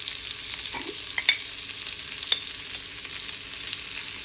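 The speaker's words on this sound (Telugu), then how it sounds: "ఇవి తొందరగా ఆనియన్ వేగిపోతాయి. వేగుతున్నాయి కదండి." Onions frying in a pan with salt and a little turmeric give a steady, close sizzle with light crackles and a few stirring scrapes, and no one talks.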